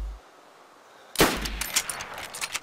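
A sharp, loud gunshot cracks out in DayZ after a quiet stretch, followed by a cluster of further shots and echoing reports that trail off over the next second or so.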